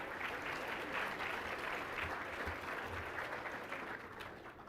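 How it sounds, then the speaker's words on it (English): Applause from the audience at a state Teacher of the Year ceremony, quiet and somewhat distant, steady clapping that gradually tapers off toward the end. "Yeah, that's worth an applause."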